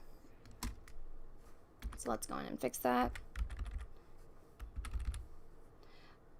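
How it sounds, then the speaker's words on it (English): A computer keyboard clatters in bursts of quick, close clicking keystrokes, with someone talking briefly in between. "To like bang on this keyboard."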